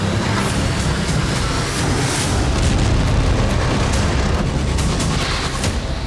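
A massive, sustained roaring blast as a missile strikes a power plant in Kyiv fills the air, dense and thunderous, with crackling bursts rumbling on without pause.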